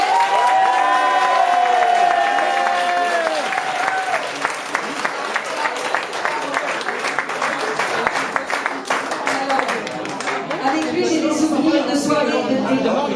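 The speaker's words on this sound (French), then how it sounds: "Ce soir, je voudrais donc qu'on lui fasse un gros applaudissement." Party guests at a 50th birthday evening applaud and cheer loudly, a dense burst of clapping with shouts and whoops, starting over lingering music and building to a sustained crowd roar.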